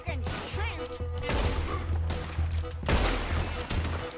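Rapid bursts of gunfire from a Red Dead Redemption II shootout crackle loudly and continuously, with overlapping shots and a heavy low rumble, and voices are faintly present.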